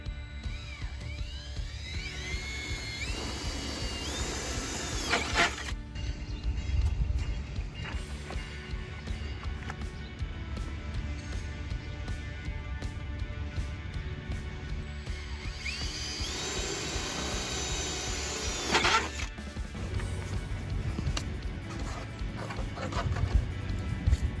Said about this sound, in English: now that we've got our holes drilled